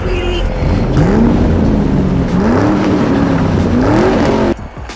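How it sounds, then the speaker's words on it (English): A 2019 Chevrolet Corvette Stingray pulls away on a test drive, its engine note climbing and falling through several gear pulls, loud and steady before cutting off abruptly near the end. "Here comes Miss Crabapple back from her test drive"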